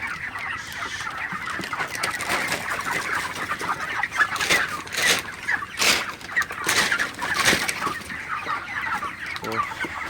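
Broiler chickens on a farm in hot weather cluck and squawk continuously, close and busy. Many birds overlap, and sharper calls burst out repeatedly through the middle of the stretch.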